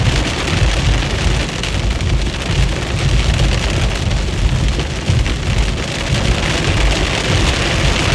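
Heavy rain during a Midwest storm with a tornado threat pours down steadily, a dense, loud, unbroken hiss of drops hitting surfaces close by, with no voices.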